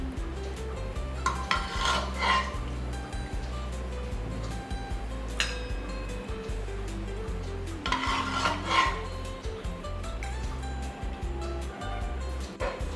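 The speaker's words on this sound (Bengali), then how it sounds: "এবার একটু নাড়িয়ে দেবো, তারপরে আমার সাম্বার রেডি।" A spoon scrapes and stirs sambar in a metal pot, a steady close rubbing and clinking that continues in uneven strokes with brief pauses, alone without talk.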